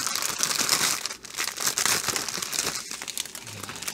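Plastic packaging crinkles and crackles up close during the unboxing of a set of diamond painting kits, a continuous loud rustle with brief pauses and no talking.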